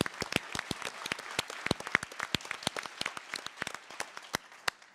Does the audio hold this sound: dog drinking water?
no